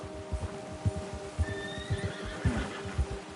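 A horse whinnies in a video game, a rising neigh over a steady run of clip-clopping hooves in regular rhythm, close and clear with faint background ambience.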